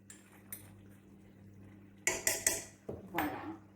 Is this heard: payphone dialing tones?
no